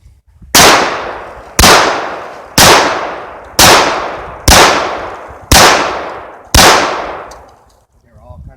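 Seven loud, evenly spaced gunshots ring out close by at an outdoor shooting range in Ohio, each a sharp crack followed by a long fading echo.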